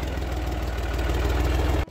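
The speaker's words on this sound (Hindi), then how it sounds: "अब मैं अपनी गाड़ी को रिवर्स कर रहा हूँ" A car engine idles steadily while reversing, giving a close, even low rumble with a regular pulsing throb that cuts off abruptly at the end. No one speaks.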